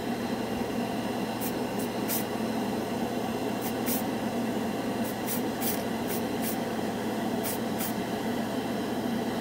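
A can of chrome spray paint hisses in a long, steady, loud jet onto a shiny spoon, close by, with faint clicks and ticks over the continuous spray.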